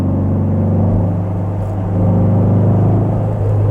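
A black 1964 Porsche 356 C Coupé drives along a road, its engine giving a steady deep rumble with a low throbbing drone that swells slightly, heard alone without talk.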